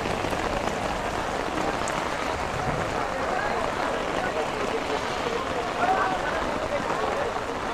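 Steady rain falls on an open-air cattle market at Hazratpur haat, a constant hiss of drops on surfaces with no letup throughout.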